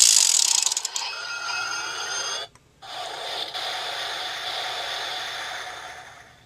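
A Mougyuu Bazooka toy from Samurai Sentai Shinkenger, its inserted disc spun to give a bright whirring ratchet clatter that fades, briefly stops, then resumes steadily, close and alone.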